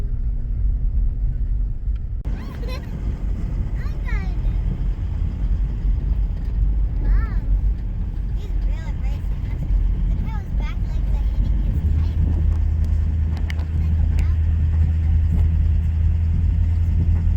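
Strong wind buffets the microphone outdoors near a gorge in the outback around Tibooburra, a loud continuous low roar with gusts that swell toward the end, a voice briefly heard beneath it.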